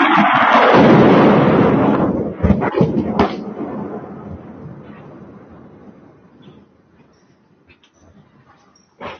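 A missile strike explodes near a building in Israel, a loud booming blast that rolls and decays over several seconds, followed by a few sharp pops, with faint voices in the background.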